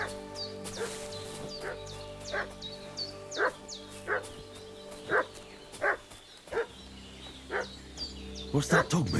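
A dog in the video game Kingdom Come: Deliverance II barks repeatedly in short, spaced yips and bow-wows, fairly close, with a man's speech over part of it.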